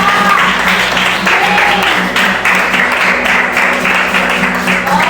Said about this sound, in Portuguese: Em nome de Jesus, pode aplaudir a Ele